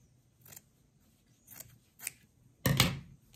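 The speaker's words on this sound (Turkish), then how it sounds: "O kadar aceleciyim ki şimdi ara dikişine bakacak kadar kesiyorum." Scissors snipping into a fabric seam allowance, four separate close snips over a few seconds, the last one louder and longer, with no talking.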